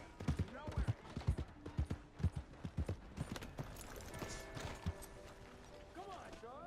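Horse hooves clip-clopping in Red Dead Redemption 2, a fast uneven run of close, loud hoofbeats that eases off, with game voices and background noise later.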